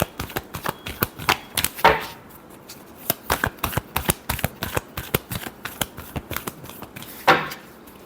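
Tarot cards being shuffled by hand, a rapid series of crisp riffling snaps and flicks in quick bursts, close and clear with no talking.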